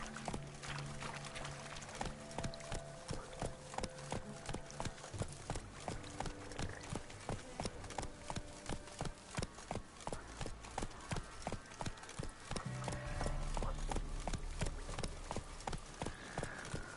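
Hoofbeats of Geralt's horse Roach in The Witcher 3, played on PS5: a steady, even clip-clop that carries on throughout, moderately close, over a constant bed of game music.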